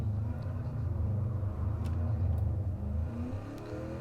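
A Panoz Esperante GTR-1 race car accelerates hard through the gears at Laguna Seca, its engine note a loud, continuous close-up roar rising in pitch with each upshift.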